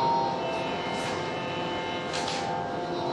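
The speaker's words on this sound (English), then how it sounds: "Known as the Chikari strings, sounds like this." Chikari drone strings on a rudra veena ring as a steady, shimmering sustained drone with bright overtones, moderately loud and continuous, with no voices.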